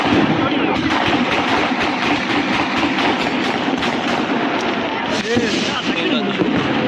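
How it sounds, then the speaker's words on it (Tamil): Firecrackers crackle and pop in a dense continuous barrage at New Year in Nuremberg, Germany, loud and close, with voices talking underneath. "அடுத்த பட்டாசு பாருங்க"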